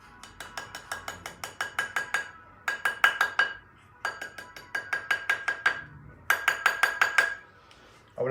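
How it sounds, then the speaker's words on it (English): Rawhide mallet tapping silver rings on a metal ring triblet, a fast run of bright metallic taps in four bursts, close and steady, with no talking. "So use a triplet and a rawhide mallet."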